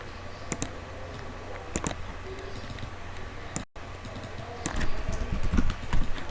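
Someone types on a computer keyboard in quick, uneven bursts of clicks against a low background hum, with a brief cut midway and louder, busier keystrokes near the end.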